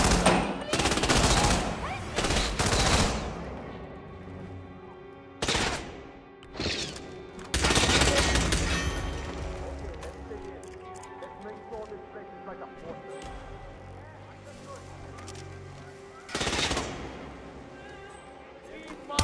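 Hitman 2 shootout on an India level: loud bursts of automatic gunfire in clustered volleys, pausing and resuming, with shouted voices and game sounds in between.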